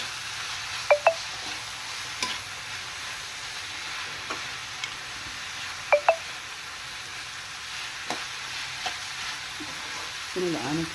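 Flat chaprada avarekai beans sizzle in a hot pan as they are stirred, a steady low frying hiss broken by a few sharp utensil clicks against the pan.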